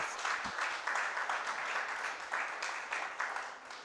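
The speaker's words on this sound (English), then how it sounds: "Please give them a big round of applause." Applause from an audience at a Reggae Month 2024 morning event, a steady wash of clapping that continues evenly at moderate volume, with faint voices in the crowd.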